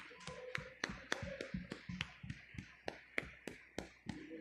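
A church congregation claps hands in praise during a worship service, a steady run of sharp claps roughly every third of a second, fairly close and clear with no talk over them.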